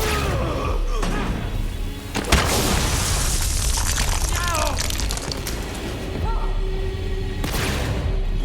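Bombs laced with refined core explode in the Borderlands 3 Bounty of Blood expansion, with heavy booms and crashing bursts rolling under game voices and a loud, dense mix of effects.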